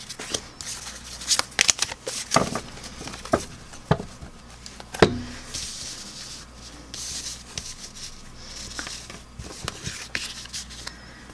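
Tarot cards being shuffled and drawn by hand: soft rubbing, sliding and flicking of card stock in irregular bursts, with a few sharper snaps and clicks, close and fairly quiet, no speech.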